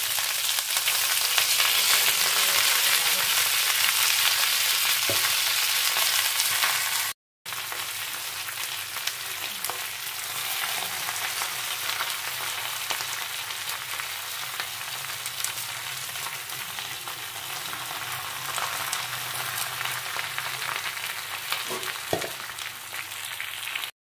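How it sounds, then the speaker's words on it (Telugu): Amaranth leaves sizzle steadily in hot oil in a pan, a loud, continuous frying hiss with a brief break partway through and occasional stirring clinks, with no talking. "ఇప్పుడు తోటకూర వేసేద్దాం."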